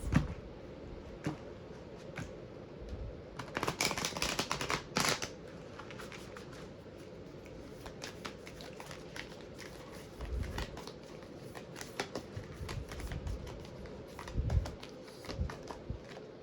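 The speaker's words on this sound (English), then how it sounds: "Hold on, I need to shuffle this." Cards are shuffled in quick riffling bursts, with soft rustles and taps scattered between the louder flurries; no one speaks.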